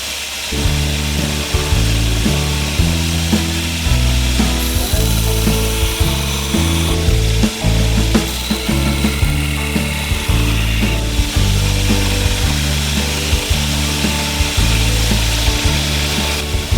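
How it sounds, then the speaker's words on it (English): A belt grinder with a coarse 36 grit belt grinds the bevel of a neck knife, a loud, continuous abrasive roar with a rhythmic rise and fall as the blade is passed back and forth across the belt. "The bevel grinding is the most complex part of this whole process."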